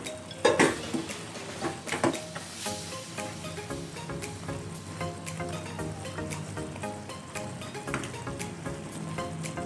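A metal lid is set onto a pot of simmering pork belly humba, giving a couple of loud clanks near the start and then lighter clinks and rattles over a soft bubbling background.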